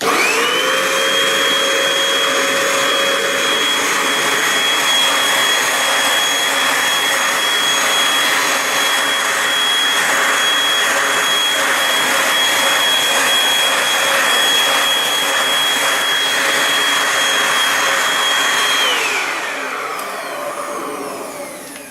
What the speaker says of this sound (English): we'll just use the hose and see if that actually sucks anything out